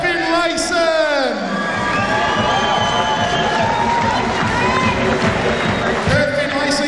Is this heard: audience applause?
yes